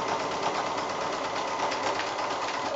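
Sewing a cushion inner, a sewing machine runs steadily along the edge, an even buzzing hum with quick regular needle strokes, close and uninterrupted, no one speaking.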